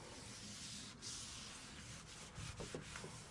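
Faint, soft scraping and rubbing around the rubber seals of a car being prepared for masking before painting, a steady low rasp with a few slightly louder strokes near the end and no voices.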